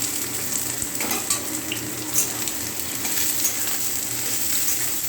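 Onions dropped into hot oil sizzle and fry in a pan with bay leaf, a steady crackling hiss with a few clinks and stirring, close and moderately loud, no one talking.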